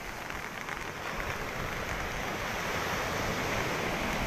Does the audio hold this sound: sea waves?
yes